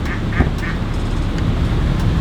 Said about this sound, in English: Guess I'm waiting for the duck.